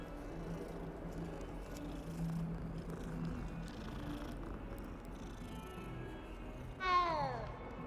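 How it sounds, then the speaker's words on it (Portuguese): A kitten in Hogwarts Legacy gives a single clear meow near the end, rising above a low steady game ambience after a stretch of quiet background. "Gatinho!"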